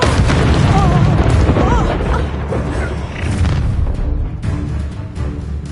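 A booming, fiery burst erupts as the Incendio fire spell is cast during a Hogwarts Legacy duel, a loud roaring blast that dies into a crackling rumble amid shouted voices.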